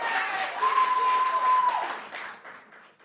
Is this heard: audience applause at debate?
yes